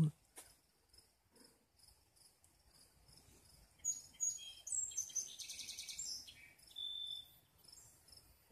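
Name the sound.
birds singing outdoors in a garden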